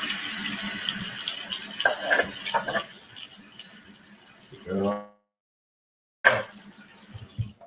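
Water runs from a kitchen tap while food is washed, clinking against dishes and cutlery, with a burst of flow near the end after a short silence, and people talk throughout.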